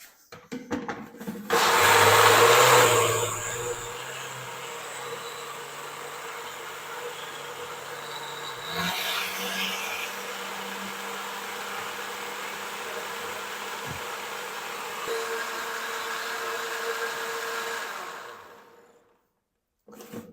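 Rice ground into a fine paste in an electric kitchen grinder, a steady loud whirring motor drone that surges at the start and runs for most of the stretch before cutting off into quiet.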